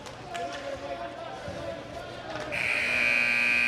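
A long electronic buzzer at the end of a hockey game, Wayzata against Sioux City, starts partway through and holds steady and loud over rink noise. Before it, indistinct play and commentary can be heard.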